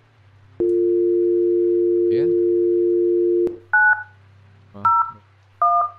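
Telephone in the video game The Guest: a long steady dial tone, then three separate dual-tone keypad beeps spaced about a second apart, clear and close, with brief speech.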